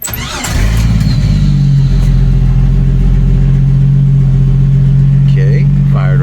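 A 1990 Jeep YJ with a 4.2L engine and a new fuel pump cranks and fires up, then settles into a loud, steady idle close by, with a person talking briefly near the end.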